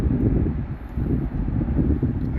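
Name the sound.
wind blowing outdoors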